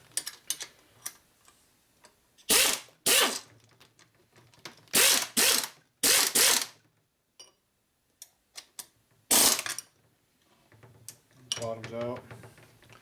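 A ratchet wrench tightens the dowel stud on the top end of a 1980 Harley-Davidson Shovelhead 92ci stroker engine: several short bursts of loud, close ratcheting clicks come in separate groups with pauses, and someone speaks near the end.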